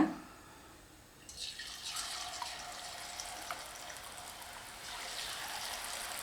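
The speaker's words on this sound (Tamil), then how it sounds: "இப்போ எண்ணெய் ஓரளவுக்கு காஞ்சிருச்சுங்க கொஞ்சம் கொஞ்சமாக மாவை மெது பக்கோடா மாதிரி போட்டுக்கலாங்க" Laddu batter is dropped into hot oil a little at a time, pakoda-style; after a moment of near quiet a steady, faint frying sizzle starts and continues evenly to the end.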